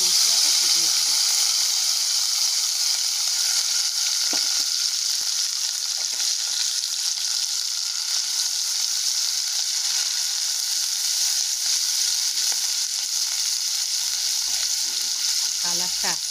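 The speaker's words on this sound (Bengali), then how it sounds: "তো চলুন কড়ার মধ্যে আমি পুরো মশলাটা দিয়ে দেবো।" Spice paste for egg-and-potato posto sizzles steadily in hot oil in a wok, a dense, even hiss that holds close and loud throughout with a few faint stirring scrapes.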